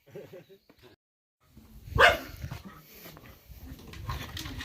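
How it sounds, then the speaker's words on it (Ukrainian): A dog gives a sharp bark amid soft voices and rustling, with a few quieter whimpering sounds around it. "Е, ти чуєш, як Мірта кричить"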